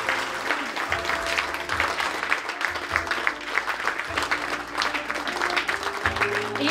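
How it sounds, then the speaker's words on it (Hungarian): Audience applause at a fashion show, a dense and continuous patter of many hands clapping close and loud for several seconds, with faint crowd murmur running beneath it and some low tonal background sound. "úgyhogy igazán megérdemlik a tapsot."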